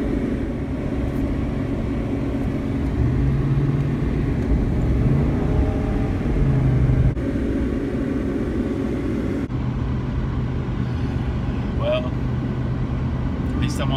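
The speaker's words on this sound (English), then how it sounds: "I'm on the highway now" A car cruises on a highway with a steady low road and engine drone from inside the cabin, while a voice talks over it throughout.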